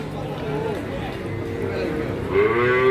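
Cows and calves at the Jatirogo cattle market, several moos rising and falling at close range over a busy crowd murmur, with a louder, higher call near the end.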